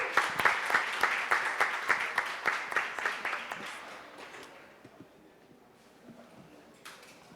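Audience applause at a legal panel event on cannabis law, a few close hand claps and wider clapping strongest early then thinning and fading into quiet room tone.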